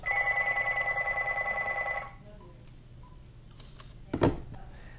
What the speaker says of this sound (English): we'll have to just let that phone ring